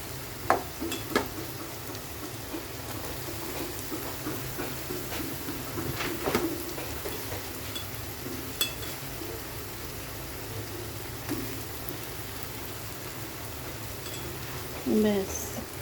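Carrots tossed into a hot frying pan with a little paneer sizzle in a steady, even hiss, with occasional stirring scrapes and light clinks close by.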